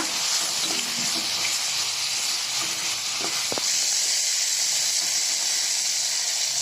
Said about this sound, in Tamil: கத்திரிக்காய் பாதி வேகிற அளவுக்கு எண்ணெயிலே நல்லா வதக்கி எடுத்துக்கோங்க